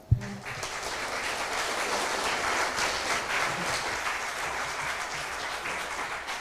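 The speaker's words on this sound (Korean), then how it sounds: "큰 박수로 맞이해 주시기 바랍니다" Sustained crowd applause at a formal Korean-Japanese sister-school anniversary ceremony, starting sharply and holding steady, dense clapping throughout.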